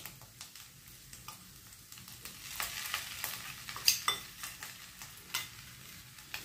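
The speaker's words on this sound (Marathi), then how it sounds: "आणि हे असं गूळ वितळवून घेऊया।" Grated fresh coconut and jaggery melting together in a pan over a low flame, stirred with a spoon, giving soft sizzling and irregular scraping strokes against the pan at close range.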